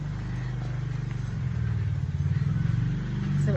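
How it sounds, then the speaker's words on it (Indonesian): Motor vehicles, a car or motorcycle, pass on a road in a rural village, a steady low engine rumble that swells slightly as one approaches, continuous and fairly near throughout. "abaikan kendaraan yang lewat ya Besti"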